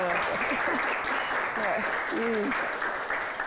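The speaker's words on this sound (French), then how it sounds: "J'aimerais qu'on applaudisse." An audience applauds steadily for a singer in front of a studio crowd, with a voice speaking over the continuous clapping.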